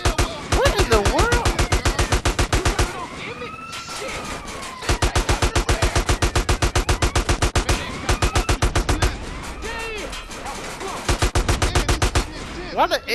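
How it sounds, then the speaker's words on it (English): An AK rifle fires long rapid automatic bursts in Grand Theft Auto San Andreas Definitive Edition, loud and close, with brief gaps between bursts, a wailing siren and voices talking underneath. "Why the AK aiming up and still hitting stuff?"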